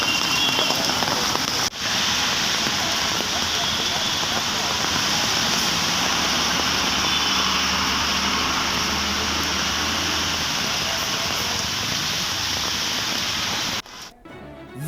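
Heavy rain from Cyclone Fengal pours down in Bangalore, a dense, continuous hiss of drops on surfaces that holds steady for nearly fifteen seconds before cutting off abruptly.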